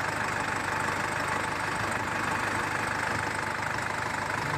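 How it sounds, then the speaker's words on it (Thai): A Nissan Frontier pickup truck engine idles steadily nearby, a continuous even rumble with a faint knocking rhythm and no voices. "เดินเบาปกติไม่มีปัญหานะครับ"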